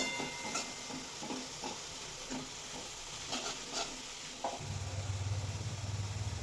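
Green peas sauté in a pan for methi matar malai, giving a soft continuous sizzle with scattered light scraping and tapping from stirring, followed by a low steady hum near the end.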